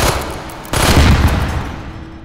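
Gunfire in the VR shooter H3VR, heard as a loud, close, dense stream of shots that jumps sharply in intensity partway through and then slowly tails off.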